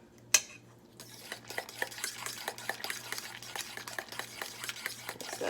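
A spoon stirs waffle batter with a spoonful of oil in a bowl for banana walnut waffles, making a steady run of soft scraping and tapping strokes, close and moderately quiet, opening with one sharp knock.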